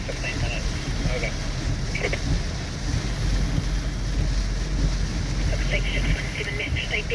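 Strong, relentless Cyclone Gabrielle winds roar and buffet the microphone in a constant loud rush, with faint radio chatter bleeding through in places.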